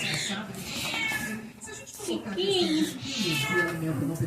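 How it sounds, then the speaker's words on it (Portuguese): A cat meows among household pets, its cries mixed with a child's and an adult's voices talking over it at close range. "Olha o gatinho está aqui."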